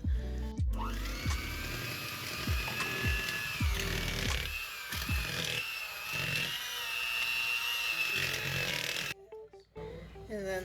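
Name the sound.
mixer beating cheesecake batter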